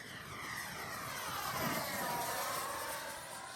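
RC F-18 model jet with twin 40mm ducted fans flying at full throttle into high wind, a steady whining roar that swells as it passes nearby and then slightly fades.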